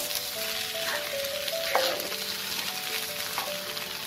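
Rice frying and being stirred in hot oil for paneer pulao, a steady soft sizzle throughout with small crackles and a brief louder scrape near the middle, no voices.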